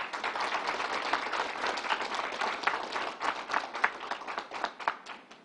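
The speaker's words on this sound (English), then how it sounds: "Let's give them a round of applause." At a Governor Cuomo COVID-19 vaccine briefing, a small audience applauds essential workers with brisk, scattered handclaps. Individual claps stand out, and the clapping thins and grows uneven toward the end.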